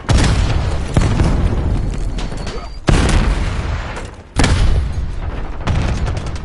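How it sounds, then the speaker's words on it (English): Loud, booming explosions in Call of Duty Warzone, several heavy blasts one after another with rumbling, decaying tails, close and dominating the mix. "Incoming frag."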